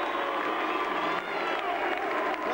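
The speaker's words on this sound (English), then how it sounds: "How about a nice round of applause for Jason Bright?" Crowd applause and cheering for Jason Bright at the trophy presentation of a 2004 Geelong motorsport weekend, a steady, dense wash of clapping sustained throughout without a break.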